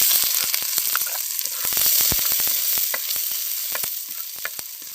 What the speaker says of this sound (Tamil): இப்போ வெங்காயம், பச்சை மிளகாய் போடணும்